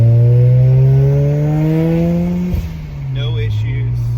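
A stock 13B-REW rotary engine with a BorgWarner S364sxe turbo and an RPM V-Mount screams up through the revs under hard acceleration on a dry road. After a loud, rising howl comes a sharp shift break, then the engine pulls again as a voice speaks.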